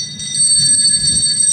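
Two bells played together during an art performance, a steady bright ringing tone sustained throughout, loud and close with no voices.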